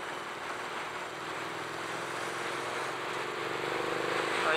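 A 2017 Triumph Street Twin motorcycle engine running with a steady, continuous drone that swells slightly louder toward the end, with no talking over it.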